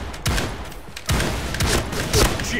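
A gun in the shooter game Point Blank fires several sharp, close shots in an irregular burst, loud and punchy with short gaps between them.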